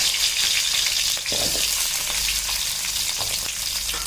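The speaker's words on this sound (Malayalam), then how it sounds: "അതിനകത്തോട്ട് നമുക്ക് ഉള്ളി ഇട്ട് കൊടുക്കാം" Onions hitting hot oil in a pan over a high flame, a steady broadband sizzle and fry throughout with a brief stir or toss midway, close and loud, for a Tamil Nadu style tomato chutney.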